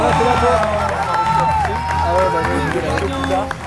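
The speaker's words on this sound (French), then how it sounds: "un tonnerre d'applaudissements" Audience at a WNBF France bodybuilding competition clapping and cheering for the silver medal winner, a dense continuous roar of applause and crowd noise with music and voices underneath.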